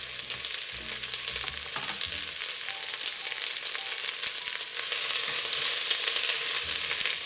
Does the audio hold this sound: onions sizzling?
yes